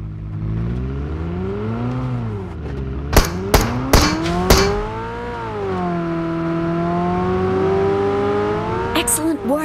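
Car engine in the mobile game BGMI, droning and rising in pitch as it revs, with several sharp knocks midway and more clatter near the end.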